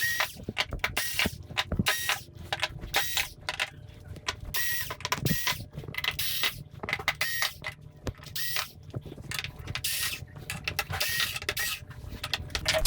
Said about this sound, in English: we're going to need to just use a Phillips head screwdriver